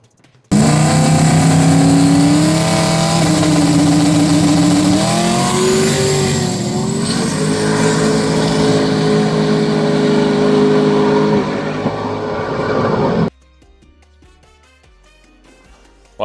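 A drag racing truck on DOT tires roars at full throttle down the strip, its pitch climbing steadily through the gears for about thirteen seconds before cutting off abruptly.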